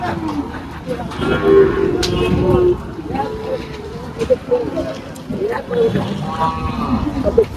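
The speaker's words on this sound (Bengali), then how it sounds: "গাড়ি থেকে গরু আনলোড করতেছে হাটের মধ্যে" Cattle moo repeatedly while being unloaded from a vehicle at a busy cattle market, their low calls rising over steady crowd noise and people talking nearby.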